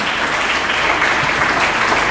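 Dense, steady audience applause at a Rotary club interact day conference, honoring a club president; loud, continuous clapping filling the whole stretch with no voices on top.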